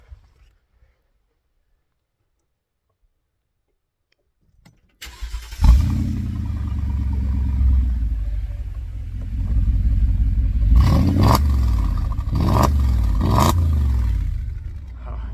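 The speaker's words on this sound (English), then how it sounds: "Let's give it a startup. I'm going to set you down right by the exhaust." A 2015 Mercedes G550 G-Wagon cranks over after several seconds of quiet and starts, settling into a loud, deep exhaust rumble close to the tailpipe, with a few sharp revs blipping near the end.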